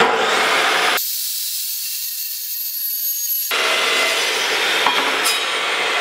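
Harsh, continuous sawing through quarterpipe ramp material, loud and close, with a brief change in texture midway before the rough cutting resumes.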